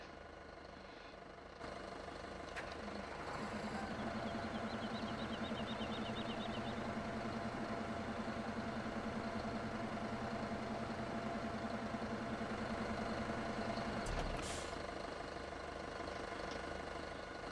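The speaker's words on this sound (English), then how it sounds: "We'll jump in this other tractor here." A tractor engine idles in Farming Simulator 17 with the Seasons mod, a steady low mid-range hum and faint knock running evenly and alone, starting up after a quieter opening with a brief clunk near the end.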